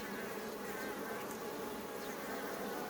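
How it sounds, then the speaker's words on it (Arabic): A dense swarm of honeybees hums constantly during an inspection of a ten-frame hive, a close, unbroken buzzing drone with no speech over it. "بدأ النحل ينفخ في الإطارات"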